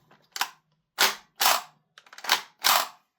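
Five sharp, snappy pops from a KWA Kriss Vector gas blowback airsoft rifle fire one at a time with short gaps, each a crisp burst with a faint mechanical clack, close by and otherwise quiet.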